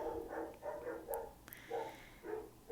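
Dogs bark in a quick run of about six harmonic barks and yips at fairly regular intervals, moderately close in a quiet indoor room, with no talking over them.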